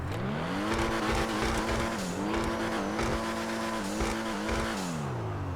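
A revving car engine in GTA Online roars steadily, pitch climbing and dipping as it shifts gears, with faint tire squeals, loud and continuous.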